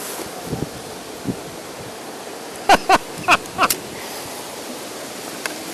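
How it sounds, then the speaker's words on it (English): Strong wind gusts buffet across a shallow lake bay, a constant roaring rush with a few sharp knocks and thumps close by. "in a bay and there's wind whipping around"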